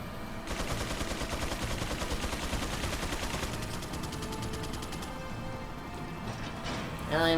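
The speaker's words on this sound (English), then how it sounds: "The dulcet chatter of machine gun fire." Rapid machine gun fire from the video game Resident Evil 4, a dense, sustained chatter of bursts lasting several seconds at steady loudness, with a sharper noise near the end.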